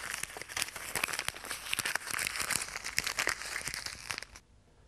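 A single sheet of paper is crumpled and folded, giving dense, close crinkling with sharp crackles that keep going steadily before stopping abruptly near the end.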